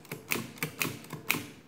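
Keys pressed on a Barrett keyboard adding machine, four or five sharp mechanical clacks at an uneven typing rhythm, close and clear with a faint clattering between strokes and no talk.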